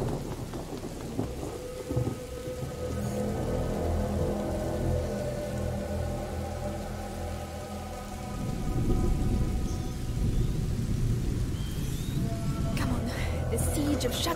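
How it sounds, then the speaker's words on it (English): Steady rain and rolling thunder from a storm in the video game A Plague Tale, a continuous dense wash with deep rumbles swelling louder partway through, and voices talking faintly over it. "Lucas, Hugo, stay out of the rain."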